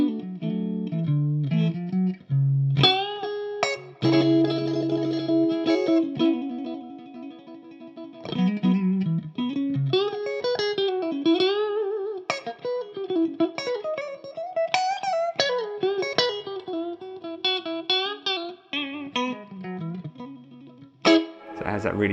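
An electric guitar with its effects pedals switched back on gives a biting tone, playing expressive bluesy lead lines with bends and short pauses, close and moderately loud.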